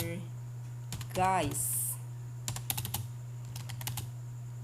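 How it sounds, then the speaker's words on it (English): Computer keyboard typed on while setting up a Teams meeting link, a few quick bursts of close key clicks following a brief spoken word, over a steady low hum. "I will type the details here."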